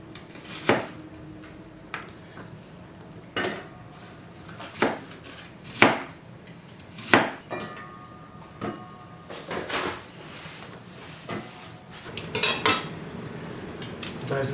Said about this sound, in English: I'm going to cut it down the middle. And then I'm going to just kind of cut it lengthwise.